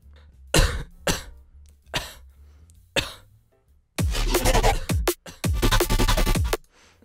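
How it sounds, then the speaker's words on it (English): A series of sharp coughs, several single bursts spaced apart, then longer rough coughing fits near the end, loud and close. "That second cough kind of comes in clutch right there."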